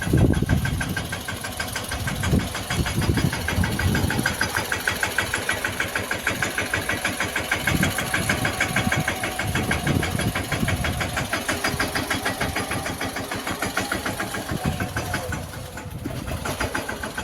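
A farm tractor engine runs in an Indian village field, a loud, close, steady chugging throb with rapid regular knocking pulses that continues throughout, with no clear talk.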